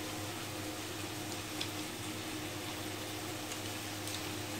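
Food frying in a pan for a homemade no-oven pizza, a soft continuous sizzle at low level with faint background hum and no voices.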